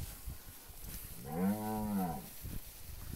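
A single long, loud moo rises from cattle being herded toward a corral on a farm, lasting about a second amid scattered outdoor noise and light footsteps.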